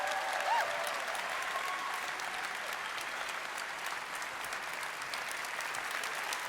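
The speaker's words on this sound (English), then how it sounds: "I want one more huge roaring applause for every single cosplayer we have on stage today" An audience at the MagicCon Amsterdam cosplay contest claps for cosplayers on stage, giving a continuous fairly distant wash of applause with a brief cheer near the start.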